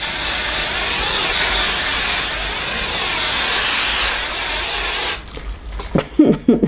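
Aqua Net hairspray hisses from an aerosol can in one long, steady spray of about five seconds, close and loud, then cuts off into quiet handling noises and rustling.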